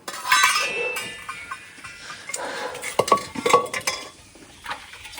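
Steel dishes, pots and cutlery clatter and clink while being scrubbed and washed by hand in a Punjabi household kitchen, in irregular close bursts with quiet gaps between.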